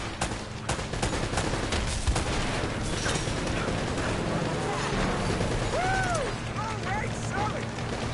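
Rapid gunfire and explosive blasts from a third-person action shooter in Uncharted, loud and continuous throughout, with a voice talking over the shooting.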